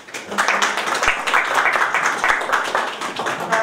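An audience at a book launch gives sustained applause, a dense and fairly loud patter of many hands that runs through the whole clip with only a little background voice.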